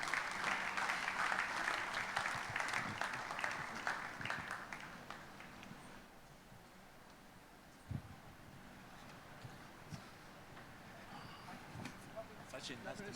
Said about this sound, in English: Please welcome them on stage with a warm round of applause